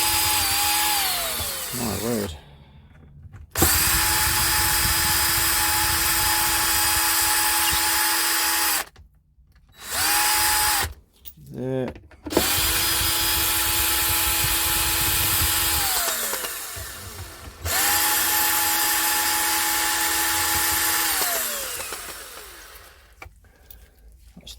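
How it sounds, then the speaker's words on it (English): A power drill whirs in long sustained runs as it backs screws out of a 1970s Wem PA40 amplifier, pausing briefly between screws with a few short bursts and clicks; a brief spoken exclamation comes in one gap. "Let's just remove these screws here."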